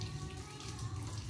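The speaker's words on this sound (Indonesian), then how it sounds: "tinggal dibilas pakai air mengalir" Running tap water splashes steadily over soapy hands being rinsed clean, a close, continuous gush with no pauses.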